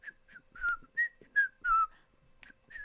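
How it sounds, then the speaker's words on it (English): A person whistling a short series of clear, wavering notes in brief phrases with gaps between them, close and fairly quiet, over faint background noise with no talking. "He's now whistling."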